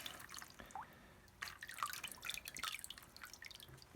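Water drips and trickles during a hot-water soak of a decarbonized piston from a 2010 Ford Taurus SHO engine in a cold garage, with quiet irregular drops and small splashes close by and no talk.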